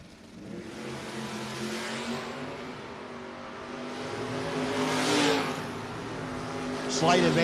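Drag race cars, a white Dodge Dart against a 1970 Plymouth Duster, rev and launch at a no-box 660 shootout, with engines building to a loud roar under continuous announcer commentary.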